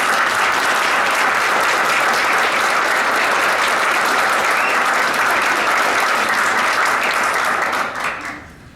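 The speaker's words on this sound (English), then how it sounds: "So I have to give all of those people a round of applause, especially our mentors and parents" A crowd at a gathering gives a loud round of applause for mentors and parents, a thick continuous patter of many hands that dies away in the final second.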